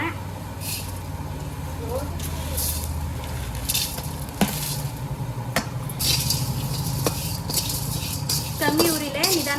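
Whole spices dry-roasting for biryani masala powder in a pan, with light scraping and stirring clinks of a spoon against metal, a steady faint rustle and sizzle, and occasional sharper taps; a voice talks over it.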